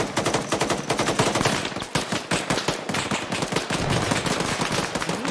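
Rapid, continuous automatic gunfire and sharp blasts crackle through a firefight in ArmA 3 during a frag grenade throw, loud and relentless throughout.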